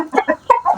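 An old, no longer productive hen with most of its feathers gone clucks in a short series of close, throaty bursts with brief pauses between them.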